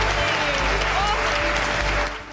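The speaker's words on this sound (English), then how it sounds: "The artists applaud each other." Sustained applause from a small group of artists clapping for each other, dense and close, with voices faintly mixed in and fading slightly at the end.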